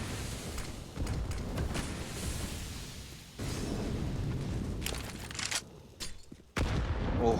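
A grenade blast and gunfire in Counter-Strike on the Nuke map: sharp bursts of shots and booms come in uneven clusters with short quieter gaps, moderately loud and without talk.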